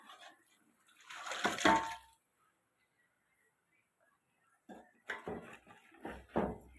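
Water from boiled mutton is poured into a pot of mutton curry in a short splashing pour, followed by a pause and then quieter clattering sounds.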